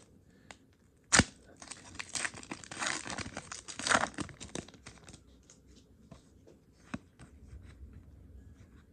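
Pokémon card booster pack being torn open, giving a sharp rip followed by crinkly foil rustling and handling of cards at close range, with a few soft ticks and taps afterward.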